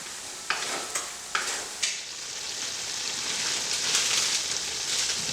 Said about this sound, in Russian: Я добавляю часть моркови. И снова перемешиваю.